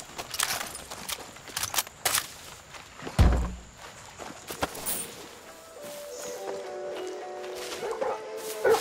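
A dog barks a few times at close range in the Far Cry 6 video game, alongside footstep-like thuds and game sounds, with a voice speaking over part of it.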